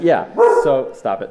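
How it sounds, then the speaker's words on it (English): A pet dog barks in a radio studio. There are several short, sharp barks that overlap with someone speaking close to the microphone. "That's my dog."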